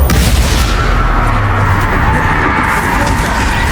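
Spell explosions boom and rumble in Hogwarts Legacy combat, a loud, dense wash of blasts with a sustained low roar and no clear gaps across the whole stretch.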